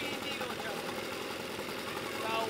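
A 1970 Evinrude 25HP outboard engine idles while its slow speed needle is adjusted, a steady, even mechanical hum with a faint rapid knock. It runs close by and holds its level throughout.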